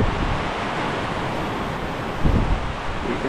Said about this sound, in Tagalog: ang lakas na ng ulan